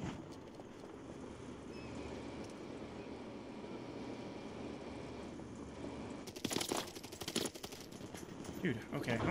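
Video game gunfire arriving as a late cluster of sharp, rapid bursts after a stretch of quieter background, loud and close, with talk in the scene.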